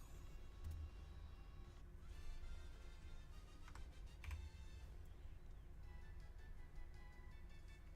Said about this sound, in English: I am sending a message to someone. That's why you can hear me typing.